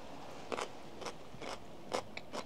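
Crunchy quick-pickled cabbage from a jar being bitten and chewed, giving five or six sharp, close crunches spaced about half a second apart against a quiet background, with no talking.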